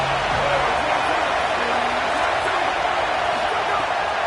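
A stadium crowd roars steadily through a big third down at an A&M vs OSU football game, a dense, sustained wall of noise with a commentator talking over it.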